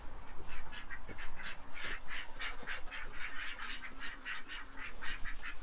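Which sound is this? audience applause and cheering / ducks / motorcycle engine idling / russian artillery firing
ducks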